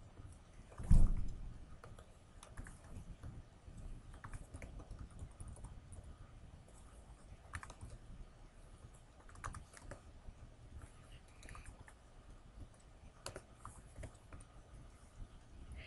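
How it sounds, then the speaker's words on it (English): Keys tapped on a computer keyboard while entering X and Y values into a spreadsheet, a soft steady patter of keystrokes with a heavier thump near the start, faint and alone without talk. "And I'm just going to type in my values."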